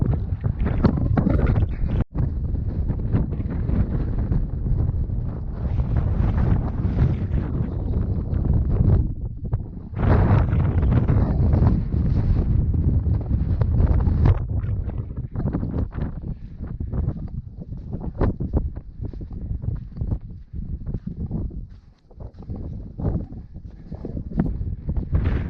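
Strong wind gusts buffet the microphone on a high mountain section of the Continental Divide Trail between Breckenridge and I-70, a loud, continuous rumbling roar that surges and briefly drops, with no talking.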